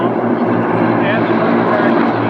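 A T-6 warbird flies past during the mass arrival at EAA AirVenture, its steady loud propeller-engine drone held at a constant level, with a voice speaking over it.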